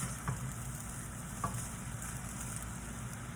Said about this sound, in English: I'm going to use these wooden spoons to mix